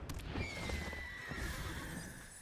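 An Ostrich Horse in an Avatar: The Last Airbender card video game gives a loud, high whinny over a low rumble and a few clopping hoof sounds. No one speaks.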